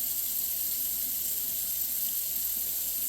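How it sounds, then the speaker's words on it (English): Water pours steadily into a dye pot for tie-dyeing nylon mesh with acid dyes, a continuous close splashing rush with no talk over it. "I'm going to pour more water in it"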